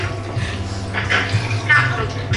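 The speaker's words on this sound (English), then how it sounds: "I'm gonna get a cup and add water. So filtered water" Filtered water poured into a cup in a kitchen during a cooking class, a soft running splash heard under a person speaking.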